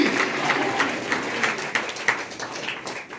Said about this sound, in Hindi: एक बार जोरदार तालियों से इनका स्वागत